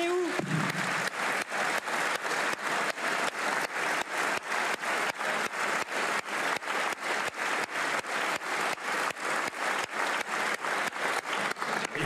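Steady, dense applause from a large parliamentary audience in the French National Assembly, with sharp evenly spaced rhythmic claps cutting through it throughout, sustained and fairly loud with no clear speech.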